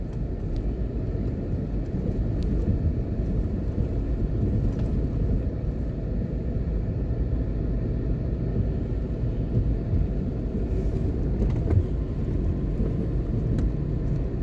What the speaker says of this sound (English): Here's a garbage truck.